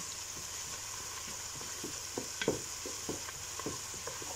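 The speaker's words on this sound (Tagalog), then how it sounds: "Ilagay natin ang ahos. Halo-haluin." Garlic stirred in a hot pan of browning oil while cooking Arabic-style rice, giving a steady background sizzle broken by repeated scraping stir strokes and soft clinks of the utensil.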